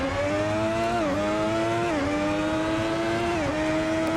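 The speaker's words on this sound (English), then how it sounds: "But you can hear our V12 engine." Ferrari LaFerrari V12 engine in the Assetto Corsa racing game, a loud, steady high-revving tone that dips briefly at each gear change, then climbs again, with no talking.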